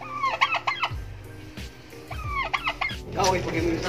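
Poultry call out nearby in quick bursts of clucks and gobbling squawks, several birds overlapping with short pauses between outbursts.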